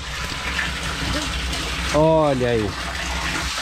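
Water gushes steadily from a water tank at a ranch, a continuous rushing flow under a voice speaking briefly.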